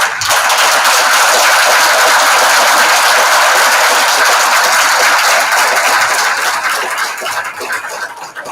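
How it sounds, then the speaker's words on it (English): Loud, dense audience applause and clapping fills a large building, sustained for several seconds before tapering off slightly toward the end. "you have to shake this building with your claps for what they did"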